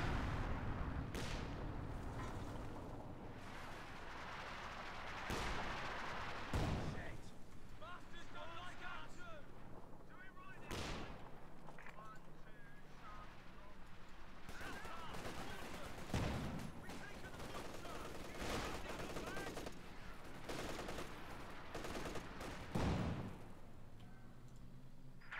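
Base artillery fires at a Panther tank in a video game, heavy booms landing every few seconds over a continuous rumbling, wind-like background.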